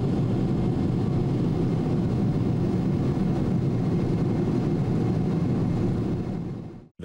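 A loud, steady Boeing 747 jet engine roar, heard from a window seat on IGS approach to Hong Kong Kai Tak Airport, fills the space, constant and heavy, then cuts off abruptly near the end.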